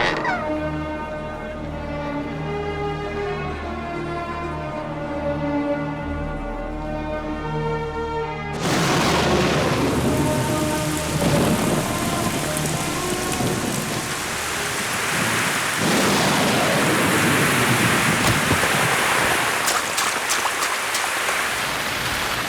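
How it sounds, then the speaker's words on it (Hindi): A heavy, torrential downpour comes in as a loud, dense roar partway through, after a stretch of sustained tonal music, and keeps pounding steadily to the end. "इतनी तेज मूसलाधार बारिश हो रही है"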